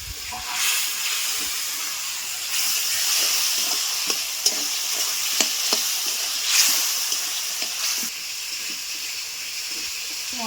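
Spices with ground cumin, chili and ginger paste sautéing in a pan for snakehead fish curry, a loud continuous sizzle and hiss with irregular spatula clicks and scrapes stirring through it, no one speaking.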